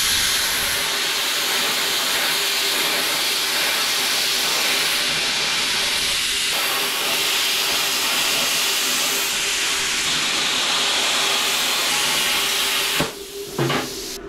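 A plasma cutter hisses continuously and loudly while cutting through metal coated in oil and grime, a steady harsh roar that breaks off briefly near the end.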